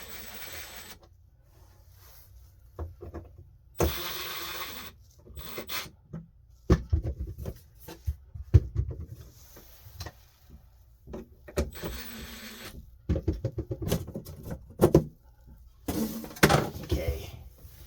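A square-bit screwdriver works at a fixture on an RV water pump, making intermittent scraping and clicking bursts with quiet gaps between them, close up, with brief voices nearby.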